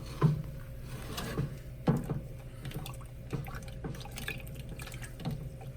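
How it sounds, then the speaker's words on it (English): Foam in-ear monitor ear tips being rinsed and squeezed under running water, with a steady trickle, soft drips and a couple of louder splashy knocks close by, and no one talking. "Keep rinsing them, give them a squeeze."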